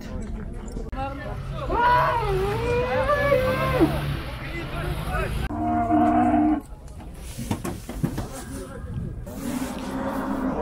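Bulls bellow loudly up close at the Zharkent livestock market, a long drawn-out moo followed by shorter calls, amid the murmur and clatter of the busy market.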